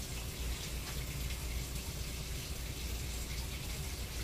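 Water pours steadily into a bowl for rinsing, a soft, continuous splashing and trickle heard faintly at a low level without talking.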